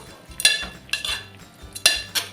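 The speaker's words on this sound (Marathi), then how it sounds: "आता ह्यामध्ये आपण घालायची कोलंबी मिक्स करून घेऊया" A utensil stirring prawns with onion in oil in a pan clinks and scrapes against the metal in four quick, close strokes, with quiet gaps between them.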